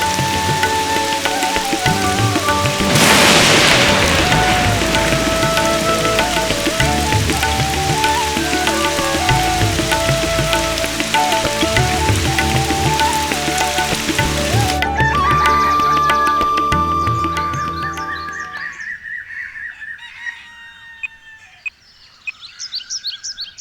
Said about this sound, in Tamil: ஆமாண்ணே, இங்கே நல்ல மழை.